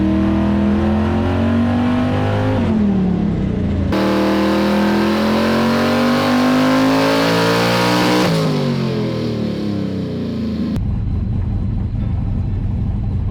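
A twin-turbo small-block Ford Foxbody Mustang engine on low boost revs loud and close, rising and falling through several sweeps before dropping back to a rough idle, with no voices.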